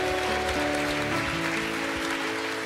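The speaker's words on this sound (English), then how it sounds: "Can we just give a clap for all the kids in the room today?" A church congregation claps for the children during a service, a steady crowd applause sitting under sustained musical tones, moderately loud and continuous throughout.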